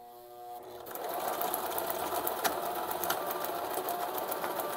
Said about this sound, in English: it's stitching now.